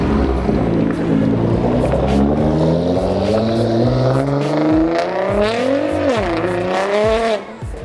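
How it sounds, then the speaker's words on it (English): A car doing burnouts at a Cars and Coffee meet in Carlsbad: loud, sustained revving with rising and falling engine pitch and tire squeal, close by, continuous for several seconds before cutting off near the end. "Let's let's go get some burnouts."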